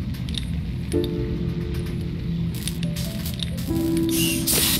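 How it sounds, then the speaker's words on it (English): Dry ice dropped into water in the Anna's Quest adventure game, giving a soft wet squishing, bubbling patter with a couple of brief tonal hums and a louder spray-like hiss near the end. "Now it's all filled with gas from the dry ice."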